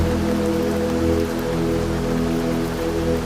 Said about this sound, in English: Outside, the rain continues its steady patter